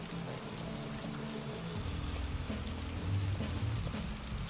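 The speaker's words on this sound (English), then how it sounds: "It's raining so hard we can barely fucking hear them." Heavy rain pours steadily in the Heavy Rain 2 video game, a dense broadband hiss with faint low rumbles and muffled voices underneath, swelling slightly toward the end.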